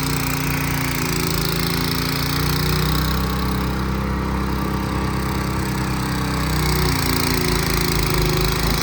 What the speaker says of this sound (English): So John got the snow blower fired up, which means it's a big snow because we don't use that.